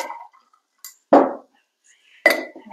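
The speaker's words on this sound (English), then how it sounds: "I'm going to add ice." Ice dropped into a glass while mixing an Atholl Brose cocktail of whisky and Drambuie: three bright, close clinks separated by short silences.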